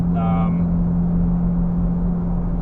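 A Toyota Tercel engine held near redline in a car, a steady loud drone with a strong low hum and a brief higher whine at the start, close and continuous.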